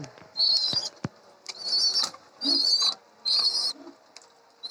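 Pet pigeons in their coop, a pair with two young chicks, give four loud squeaky bursts about a second apart, with soft shuffling and a few taps in between.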